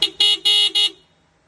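A stock Mitsubishi Xpander Cross car horn honks four times in quick succession, loud and close, with a short first beep followed by three longer blasts.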